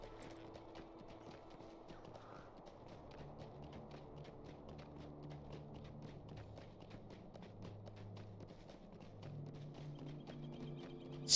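Hooves of the Steed of the White City mount in LOTRO, a quiet, steady clip-clop rhythm under faint ambient music, holding at an even pace throughout.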